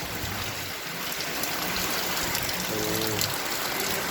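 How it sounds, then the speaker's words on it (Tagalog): Heavy overnight rain and water flowing hard through canals, heard as a steady, dense wash of rain and running water that fills the whole clip at an even level, with a faint low tonal hum briefly near the end. "pati mga kanal no, yung grabe rin ano, daloy ng tubig"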